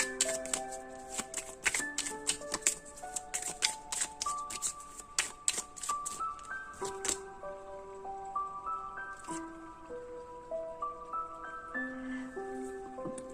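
Oracle cards are shuffled, a run of quick crisp riffling flutters and taps, close and distinct, set against soft chiming background music that carries on alone afterward.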